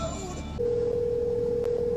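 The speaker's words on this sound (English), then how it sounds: "Now I'm going to make a phone call with it" Hands-free phone call through a truck's speakers: after a brief murmur of background noise, a steady, loud dial tone sounds and holds for most of the clip.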